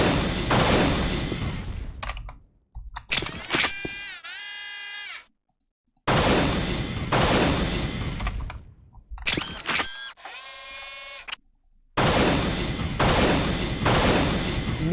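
Weapon alternate fire in the video game Unreal, heard as three loud, sustained blasts of roughly two seconds each, separated by silence and rising, warbling electronic charge-up tones.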